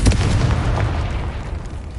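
A Confringo fire spell in Hogwarts Legacy bursts with a loud, deep boom that rolls off into a rumbling fade and lasts about two seconds.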